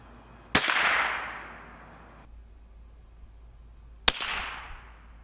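Two sharp .22 LR rifle reports from Remington Golden Bullet hollow point rounds, spaced about three and a half seconds apart, each loud crack trailing off into a short outdoor echo with no talk.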